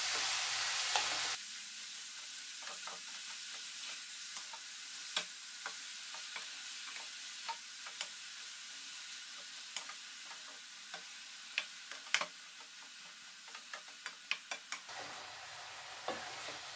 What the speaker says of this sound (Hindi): गाजर को हमें लगातार चलाते जाना है, उसको ऐसे नहीं छोड़ना है, नहीं तो ये नीचे से जल जाएंगे।